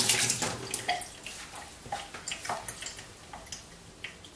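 Running water from a tap rinses a salt print in a photographic darkroom, a soft continuous splashing broken by small irregular drips and splashes, fairly quiet and with no voices.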